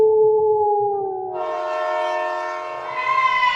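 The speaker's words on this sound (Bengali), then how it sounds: "অদ্ভুত একটা ট্রেনের বাঁশি।" An eerie train whistle sounds alone, a long sustained tone that swells into a richer, brighter blast partway through, with faint low rumble beneath.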